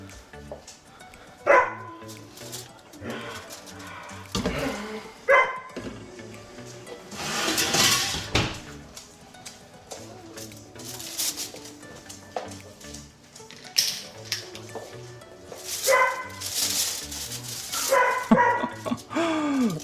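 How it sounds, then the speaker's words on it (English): A dog barks repeatedly in a home kitchen, with loud, excited bursts and yips scattered irregularly and some whimpering between them, close by and alone without talk. "My dog is going wild."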